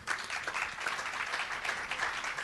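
Applause from an audience at a civic action conference plenary, steady dense clapping throughout at moderate level, no voices over it.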